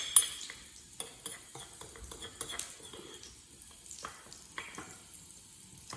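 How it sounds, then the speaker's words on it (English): A utensil stirs and scrapes through tapenade in a bowl, irregular soft clinks and wet mixing sounds close by, with no talking. "And mix it together to make our tapenade."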